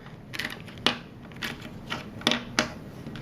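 Zen Magnets rings split apart into stacks of two, sharp metallic clicks and snaps arriving one after another in an uneven rhythm, close and fairly loud.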